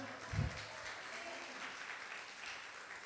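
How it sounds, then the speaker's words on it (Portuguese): A church congregation claps together during a worship service, a sustained, fairly faint wash of applause with a brief louder thump near the start. "Posso ouvir, então, um forte aplauso para o Senhor?"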